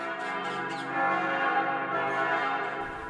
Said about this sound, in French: les cloches de l'église de la Dormition de Marie sonnent à toute volée